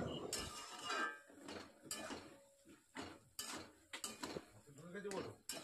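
A ladle scrapes and clinks around a pan as boiled vegetables are stirred into fried masala for a fig curry, repeated close metallic strokes with brief pauses and a quiet voice underneath.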